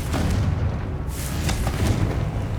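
A Confringo blasting spell explodes in Hogwarts Legacy, a dense, rumbling burst with a broad roar and low boom carrying steadily through the short stretch with no voices.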